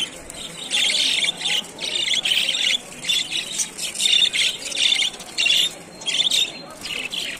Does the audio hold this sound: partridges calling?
yes